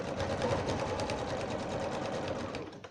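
A sewing machine runs steadily while stitching pot holder binding, a close, even rapid hum of needle strokes lasting a few seconds, then slowing at the end.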